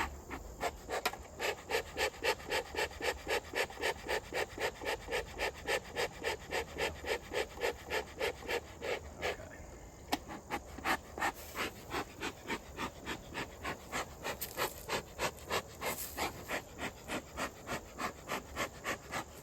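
A beekeeper's smoker is pumped in a steady, rapid rhythm of breathy puffs and hisses, about two per second, with a short pause midway, amid a faint insect buzz near a bee colony.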